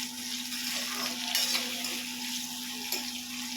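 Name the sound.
tomatoes, cashews and almonds being fried in a kadhai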